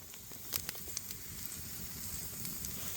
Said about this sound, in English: Oh, I can hear it sizzling.